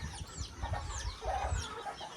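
Mini garnisé bantam chickens cluck softly in short, scattered bursts on a farm, near but faint against a quiet background.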